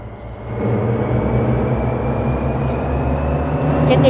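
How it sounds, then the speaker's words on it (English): A continuous low rumble of a running train rises after a quiet start and holds steady, with a few faint high clicks near the end; no voices. "I guess the train's making a noise."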